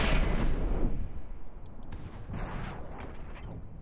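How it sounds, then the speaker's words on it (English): Mortar hits landing in a video game battle, a couple of heavy booming impacts with rumbling tails, followed by fainter whooshing and mechanical shots at mid distance, no talk. "There we go, some mortar hits."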